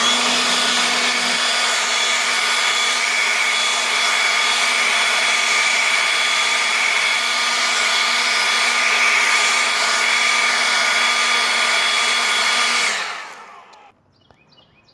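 Ryobi leaf blower running at a steady, loud, close whine for about thirteen seconds before spinning down into near silence.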